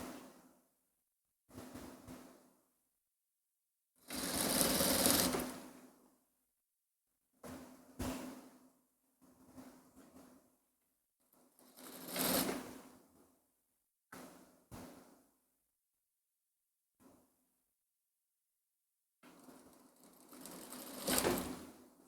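A sewing machine stitches a dress seam in repeated bursts of several seconds each, separated by short pauses, close and fairly quiet, with no talking.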